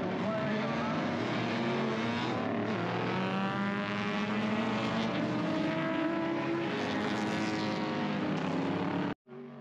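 Historic racing cars at a classic and vintage race meeting at Winton, a continuous loud engine roar with rising and falling pitch as cars pass, ending abruptly.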